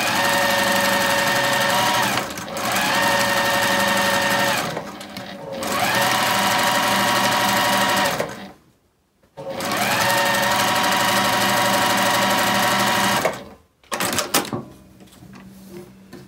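Sewing machine stitching a seam in Liberty quilt fabric, running in loud, steady bursts of rapid whirring with short pauses between runs and a near, close-up sound.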